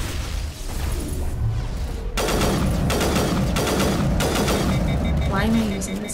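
Rapid gunfire from a weapon in the sci-fi shooter Mass Effect (Legendary Edition), with repeated bursts and shots that keep up loud and dense against game background noise and music.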